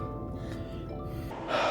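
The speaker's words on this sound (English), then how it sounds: "I need to catch my breathing here." Heavy, gasping breaths after a hard gym workout, close to the mic, ending in a stronger forceful exhale.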